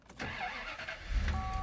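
A Bentley Continental R with a turbocharged 6¾-litre V8 cranks and fires up, a short starter whirr followed by a deep rumble settling toward idle.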